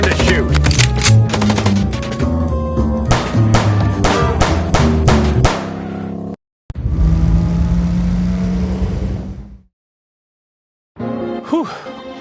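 Rapid bursts of gunfire in a Chicken Police shootout, loud and close, crackle in dense volleys for several seconds, then a sustained noisy blast, a brief silence, and a final scattered burst.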